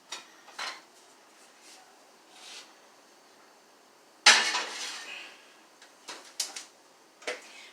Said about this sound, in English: I'm going to put the lid back on. And I'm going to put it back in the oven.